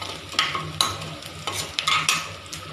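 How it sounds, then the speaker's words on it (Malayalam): Onion and garlic stir in a hot pan with popped mustard seeds and fenugreek, a steady close sizzle broken by several scraping stirs of a spoon. "പിന്നെ ഉള്ളി വെള്ളുള്ളി എല്ലാം കൂടിയിട്ട് വഴറ്റിക്കൊണ്ടിരിക്കും"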